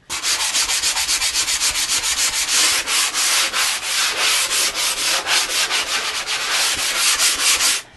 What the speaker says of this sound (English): I'm going to take a sanding block and just sand and smooth off the rough edges.